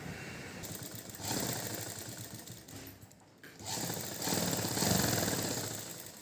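A sewing machine stitches the edge of a silk pavadai for a four-year-old, running in faint bursts of fast, even mechanical chatter with a brief pause in the middle.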